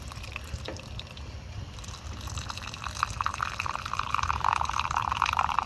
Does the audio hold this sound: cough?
no